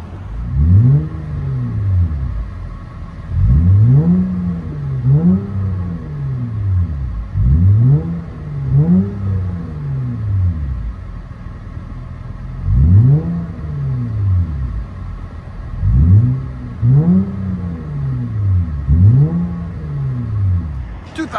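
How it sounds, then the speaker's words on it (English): A 2007 Honda Accord V6 with a freshly finished exhaust line and Dynomax muffler revs repeatedly, each blip rising and falling in sweeping bursts, loud and close over a steady idle, with no voices. "'07 Honda Accord V6. We just finished the exhaust line."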